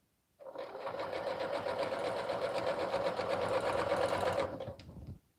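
A sewing machine stitches minky fabric for a baby blanket in one continuous run of rapid, even mechanical chatter, starting and stopping sharply, close and moderately quiet, alone without talk.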